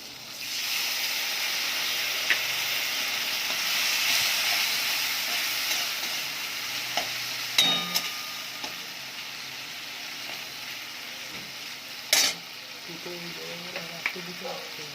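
Spices and cumin powder with ginger paste sautéing in a pressure cooker for khichuri, a steady loud sizzle throughout with a few sharp scrapes and clinks of a spoon stirring near the end.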